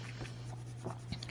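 Coloured pencil scratching on paper while blending, a few soft, quiet strokes scattered over a low steady hum.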